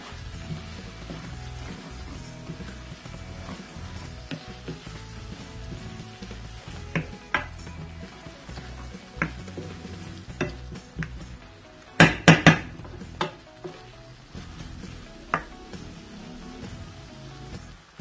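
Chana dal and bitter gourd are stirred together in a hot pan, making a continuous sizzle with scattered scraping taps and a burst of louder metallic knocks partway through.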